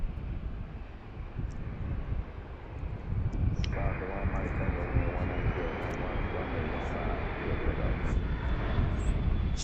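An airliner takes off from runway 15 at Reagan National Airport (DCA), its engine roar rising and holding, heard from a distance through wind buffeting on the microphone, with someone talking over it.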